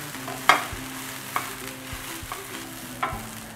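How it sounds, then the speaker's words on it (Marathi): Cluster beans stir-fried with turmeric in a pan, a low continuous sizzle punctuated by a few sharp spatula scrapes and taps, close by with no voices. "आता हे परत एकदा परतून घेऊया. आपल्याला गवारी व्यवस्थित भाजून घ्यायची आहे."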